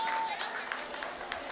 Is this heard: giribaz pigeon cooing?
no